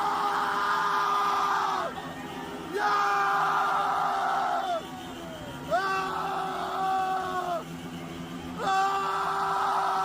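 A crowd yelling and cheering in sustained loud bursts, with pitched whoops and shouts rising together and dipping in brief pauses between swells, sounding close and dense.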